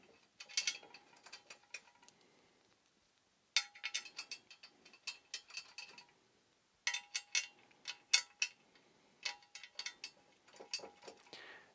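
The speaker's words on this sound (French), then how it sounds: "Et il y a juste à mettre les vis qui sont indiquées, donc c'est les C8. Et bien sûr, les visser." Screws being driven into the legs of a FlexiSpot E7B standing desk during assembly, heard as bursts of rapid ratcheting clicks in three separate runs with brief pauses between them, close and fairly quiet, with no talking.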